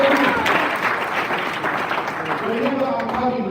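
An audience at a wellness gathering claps together in a steady, moderately loud round of applause lasting a few seconds, with some voices mixed in underneath.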